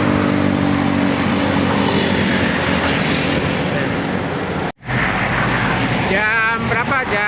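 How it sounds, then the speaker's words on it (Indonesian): Empty buses heading east pass along a road on a Jakarta to Purworejo motorcycle trip, a continuous loud roar of engines and tyres close by with a brief dropout and a voice talking over the traffic near the end. "bis-bis yang ini balik ke arah timur ya, bis-bis kosong"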